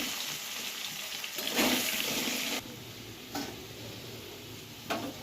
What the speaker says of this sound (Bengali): তাই দেখো আলুগুলো ভাজা হয়ে গেছে আমার তুলে নিই লাল লাল করে ভাজা হয়ে গেছে